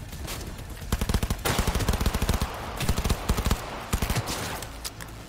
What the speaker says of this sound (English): That's a sniper, that's why he's hitting so hard.